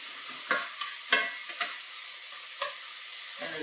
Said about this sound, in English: The tomato juice reaches the vegetable oil.